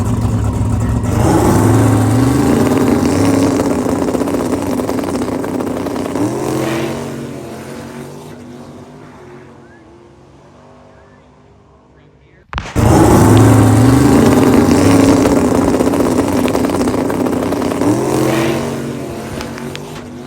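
Drag race car launching on a curve, engine revving hard and loud up close, tires briefly spinning before hooking, a quieter lull, then a sudden second loud burst of full-throttle engine roar.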